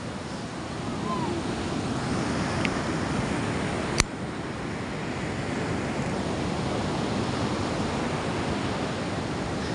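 Rough ocean surf rolling in continuously, a broad, steady wash of waves mixed with gusting wind buffeting the microphone, with one sharp knock partway through.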